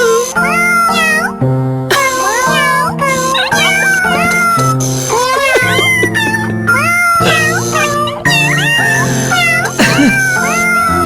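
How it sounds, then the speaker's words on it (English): Several cats meow and caterwaul loudly and continuously, overlapping yowls rising and falling close by, with no speech. "Shut up, cats."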